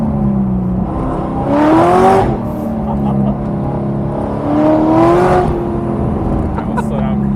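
A Mazda ND Miata with a swapped V8 LS3 engine accelerates on a street, its deep engine note rising in pitch twice in strong surges, heard from inside the car while people talk over it.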